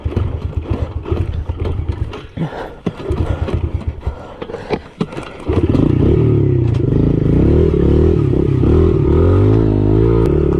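A motorcycle on a wooded trail, heard first as clattering, scraping movement and then as a steady, loud engine drone that runs close and continuous through the second half.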